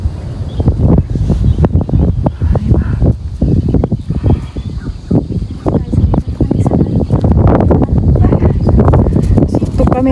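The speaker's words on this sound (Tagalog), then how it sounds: "ang lakas ng hangin" Strong wind gusting over the microphone on a hike to Phallic Rock in Hong Kong, with loud buffeting rumble throughout and people talking over it.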